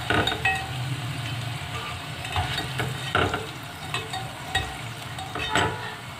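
Food sizzling in a hot pan while being stirred and turned, with bright metallic clinks of a utensil against the pan at irregular intervals over a steady frying hiss.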